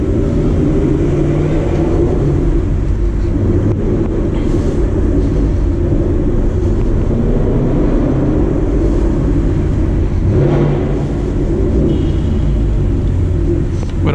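A 2019 Ford Mustang GT with a short shifter rumbles through a parking structure, its deep engine drone loud and continuous, echoing off concrete with swells as it moves.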